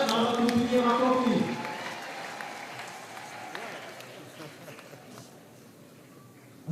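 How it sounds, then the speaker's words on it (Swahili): A church audience in Same, Tanzania applauds to welcome the district commissioner at a mission's tenth-anniversary celebration. A voice is heard over the opening, then broad, steady clapping fades gradually. "Naomba tumpigie makofi"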